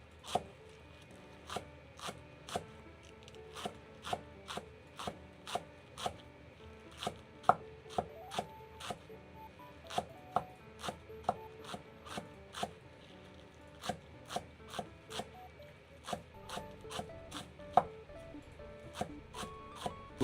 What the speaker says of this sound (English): Oh, you can just watch me chop actually. This is like visual ASMR at this point. Chopping chive ASMR.